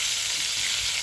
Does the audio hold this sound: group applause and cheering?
no